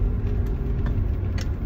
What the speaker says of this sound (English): Why are there so many cars?